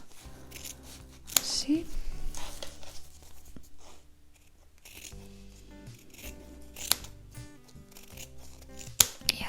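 Scissors snipping and trimming fabric to the width of a zipper, repeated close cutting and rustling handling noises with a brief spoken word.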